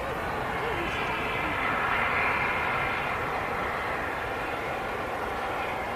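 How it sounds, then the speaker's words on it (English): Sun Express Boeing 737 MAX airliner at Manchester Airport, a steady distant jet engine roar holding level throughout, with a commentator talking over it. "Sun Express Max here. Such a good looking plane, these."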